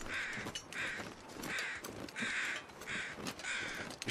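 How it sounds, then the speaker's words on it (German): Crows caw repeatedly and steadily in the video game The Long Dark, a rhythmic series of harsh calls over a windy outdoor ambience, fairly distant and moderately quiet. "Ich höre Krähen, aber ich sehe sie nicht."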